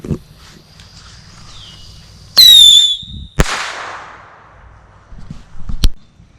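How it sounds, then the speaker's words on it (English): A bottle rocket firework whistles shrilly for about a second, then bursts with a sharp bang, followed by a crackling tail, another distant pop and outdoor footsteps and shuffling. "That one was the best bottle rocket I've seen."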